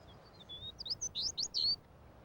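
A brief, quiet phrase of sparrow song: a few thin, high chirps and tweets in quick succession, alone against a faint background.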